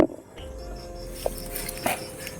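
A dog barks a couple of times, faint and far off, over a quiet outdoor background.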